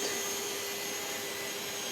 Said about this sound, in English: it sounded like the vacuum car was cutting out first